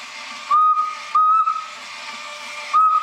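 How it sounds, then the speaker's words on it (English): A whistle blown to steer a small 3D printed robot on a dual drive gearmotor base gives three short, loud steady tones, two close together and one later, over a constant airy hiss. "Now let's try the other whistle."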